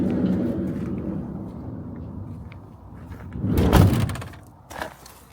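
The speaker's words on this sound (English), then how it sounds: "So let's close the door." A bus side door closes with a muffled mechanical rumble and thud near the end, followed by a short second clunk, heard close up against low engine idle and background noise.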